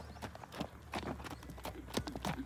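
Hooves clip-clop in an irregular series of sharp knocks as a horse walks on a hard surface, fairly close, with a soft noisy background.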